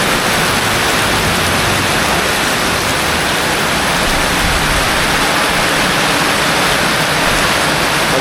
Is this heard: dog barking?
no